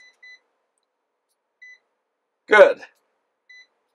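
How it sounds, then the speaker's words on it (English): A Kaiweets smart multimeter in diode test mode gives short, faint electronic beeps at intervals, and a person speaks briefly in between. "It does make the beep sound."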